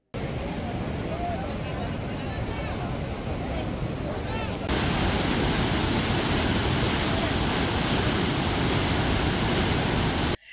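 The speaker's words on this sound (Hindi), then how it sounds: "शिवनाथ नदी अपने शबाब पर बह रही है" The monsoon-swollen Shivnath river rushes in flood as a steady, loud broadband roar of churning water, constant throughout, with wind buffeting the microphone and a faint trace of distant voices.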